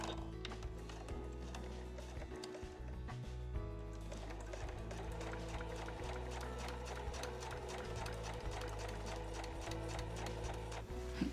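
A sewing machine stitches a 7 mm seam along the zipper of a pouch made from Marimekko fabric scraps. It gives a faint, steady, rapid ticking rhythm that runs continuously.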